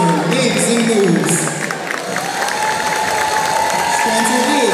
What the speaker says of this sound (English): Let's give them a big round of applause as they take the floor